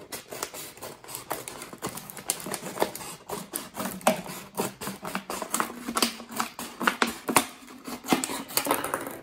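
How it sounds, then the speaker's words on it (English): Rapid, irregular snipping and crackling of scissors cutting through a thin plastic bottle, close and steady throughout, without any talking. "you'll be able to get your scissors in and cut round it"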